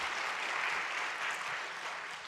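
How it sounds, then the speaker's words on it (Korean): A church congregation applauds at a Friday service, a dense, steady wash of clapping that holds at an even level for about two seconds with no voices over it. "박수로 즐겨 드리겠습니다."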